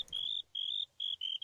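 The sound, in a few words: grasshoppers in the video game Minecraft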